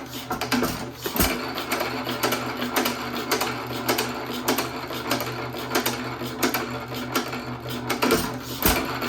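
A hit-and-miss engine running at roughly 200 to 250 RPM, a steady rhythmic mechanical clatter with periodic heavier firing thumps, close and continuous.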